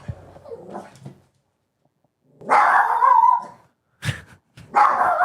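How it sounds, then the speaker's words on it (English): A pet dog barks nearby indoors: a few scattered yips and whimpers first, then after a pause two loud, close bursts of barking, with no voices over them. "Do you hear my dog?"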